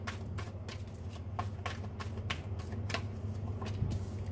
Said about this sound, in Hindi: कार्ड आया तो है बट मुझे शफल करना है अच्छे से।